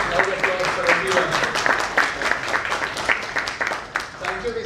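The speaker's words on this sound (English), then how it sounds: "A round of applause for everyone." Audience applause closing a panel session at a Jaipur dialogue event, a dense burst of many hands clapping at close range, sustained for several seconds and tapering slightly, with voices mixed in beneath.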